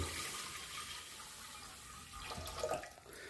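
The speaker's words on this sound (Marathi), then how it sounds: "एक तांब्या पाणी टाकून घेऊ." Water poured from a small pot into a pressure cooker on a stove, a steady faint trickle and splash running throughout with no talk.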